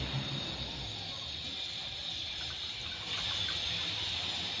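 Water runs steadily over a panchaloha idol being rinsed after scrubbing, a soft continuous hiss with a slightly louder gush near the end.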